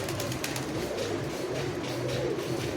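Giribaz pigeons coo in a steady, low, continuous murmur, several birds overlapping close by with no voices.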